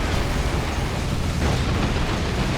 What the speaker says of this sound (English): Big old tank buster barrage